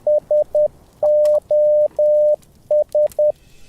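Morse code beeps tap out SOS within the music of Zelda Breath of the Wild: three short tones, three long tones, then three short again. The steady pitched beeps are crisp and clear against near silence.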